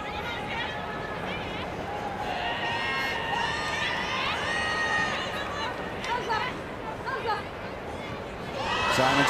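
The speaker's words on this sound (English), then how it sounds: "the crowd doing it their bit to just try and spur the women on" A stadium crowd at a women's rugby sevens match between Japan and Canada in Vancouver keeps up a steady roar of cheering and chatter, with shouts and whistles rising, and it swells louder at the very end.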